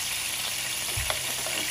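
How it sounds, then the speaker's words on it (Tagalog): Garlic and onion sautéing in a hot pan with oil for a pork and bitter melon dish, giving a steady close sizzle with a brief stir around the middle. "Gisa na natin ang ating bawang sibuyas."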